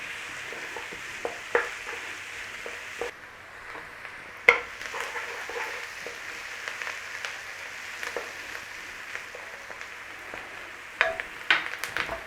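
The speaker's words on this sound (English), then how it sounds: "A nice little sauté stir fry." Vegetables sauté in a pot for a chicken stew, giving a steady bright sizzle with sharp spoon clinks and stirring scrapes against the pot scattered through it.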